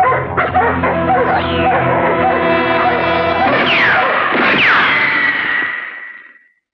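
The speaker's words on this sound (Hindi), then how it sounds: "वो मेरे कुछ कुत्ते शोर मचा रहे थे, चुप हो गए" Several dogs barking and yelping excitedly up close, a loud continuous chorus of overlapping yips and whines that fades out at the end.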